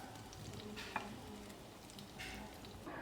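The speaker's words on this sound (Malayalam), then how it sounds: "അപ്പോൾ നമ്മുടെ ചെമ്മീനൊക്കെ ചെറുതായിട്ട് മുരിഞ്ഞിട്ടുണ്ട്" Shrimp frying in hot oil in a pan, a steady soft sizzle with occasional stirring scrapes and a small clink, close and continuous with no talk.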